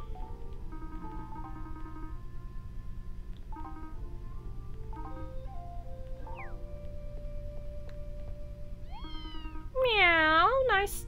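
A cat character in the Fantasy Life video game meows, ending in a loud, wavering series of mewing cries after quieter game tones and chimes.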